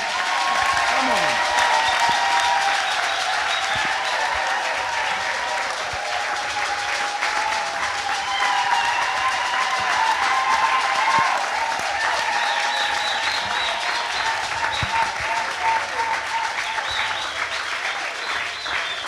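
Sustained applause from a large church congregation fills the whole stretch, dense and steady, with cheering voices mixed in.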